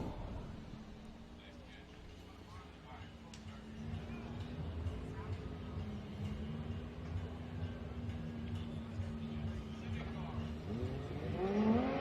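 A Nissan S15 drift car on Falcon Tires runs in Formula Drift qualifying in New Jersey. Its steady engine drone holds throughout, then swells and rises near the end beneath continuous commentator talk.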